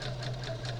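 A home sewing machine runs at a steady speed, its motor humming with a fast, even mechanical whir, close and continuous for under a second with no talking.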